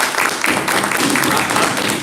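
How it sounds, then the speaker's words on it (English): An audience at a Southface Sessions talk applauds steadily, a dense, even wash of many hands clapping at once and holding the same level throughout. "Let's give James a hand of applause."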